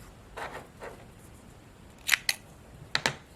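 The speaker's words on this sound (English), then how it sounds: "cut your yarn" Scissors snipping yarn at the end of a crochet Santa ornament, a few soft rustles followed by two pairs of crisp, close metallic snips, with no talking.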